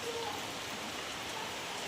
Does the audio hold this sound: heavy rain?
yes